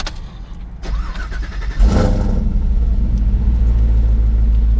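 Early Jeep JK Wrangler with an LT4 engine swapped in cranks briefly, fires with a deep rumbling burst and settles into a loud, steady, close idle.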